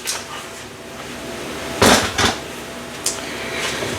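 An Instant Pot lid is lifted open, giving a pair of close, sharp clunks followed by a lighter knock, over a quiet kitchen.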